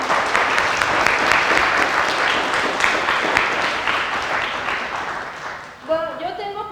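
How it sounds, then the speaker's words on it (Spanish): An audience at a panel discussion on women in data science applauds the participants, dense steady clapping that slowly thins and fades, then a voice starts speaking at the end. "les pido un aplauso para las participantes"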